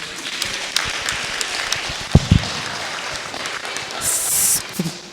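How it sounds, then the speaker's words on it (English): An audience at a community board general meeting applauds steadily, a dense wash of clapping from many hands with a few louder claps standing out, swelling slightly near the end. "Give Sandy Nurse another round of applause."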